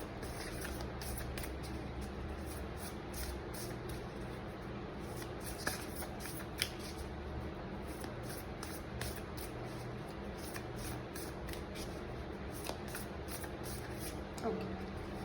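A deck of oracle cards being shuffled during a tarot reading, a soft continuous riffling and sliding of cards, close but quiet, with a few light taps over a faint background hum.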